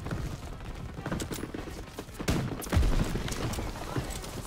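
Gunfire in the video game Call of Duty: WWII, a run of sharp, irregular shots and bursts with heavier thumps partway through, mixed with other game noise.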